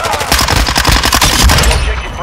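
Rapid bursts of automatic gunfire from the video game Call of Duty Modern Warfare 2, loud and dense, with shots overlapping in a steady chattering rhythm throughout.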